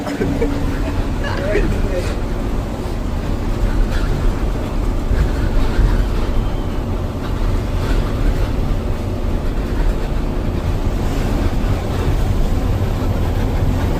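Tata, Benz and Leyland trucks run their engines in a race, a loud continuous low rumble and roar holding steady throughout, with people talking over it.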